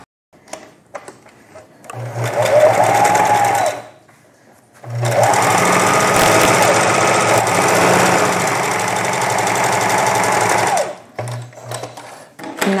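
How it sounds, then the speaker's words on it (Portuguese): A sewing machine stitches around a folded fabric strip for a mask, running in two long, loud, steady whirring bursts up close with short pauses between. "vamos passar a costura aqui em volta"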